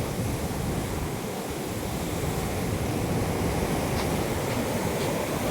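Surf on Valiathura Beach in Thiruvananthapuram, near the ruined pier, rolls in as a steady, loud wash of breaking waves mixed with wind buffeting the microphone, with no voices.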